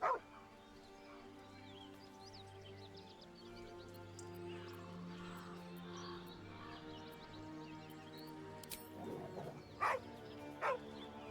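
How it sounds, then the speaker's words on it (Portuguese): A dog barks and whimpers faintly in the background of Baldur's Gate 3 gameplay, buried under a low steady hum of music and ambience, with a couple of sharper yips near the end. "Cachorro?"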